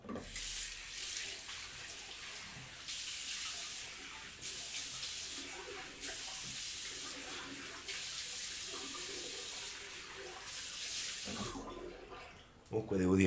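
Tap water runs steadily as a broadband hiss for most of the clip, with faint clattering underneath, then cuts off near the end.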